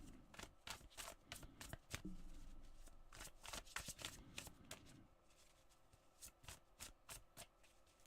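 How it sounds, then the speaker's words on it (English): Tarot cards being shuffled by hand, a close run of quick riffling and slapping card sounds in an uneven rhythm, heard alone. "as I'm shuffling and thinking 7 card"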